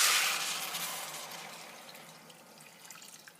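Water pours into a cooking pot for an Ayurvedic porridge-like soup, a splashing rush that starts loud and close, then tapers to a softer trickle. No voices.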